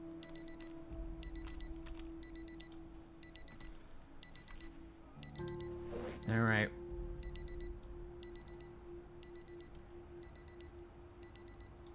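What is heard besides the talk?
repeated beeping of an alarm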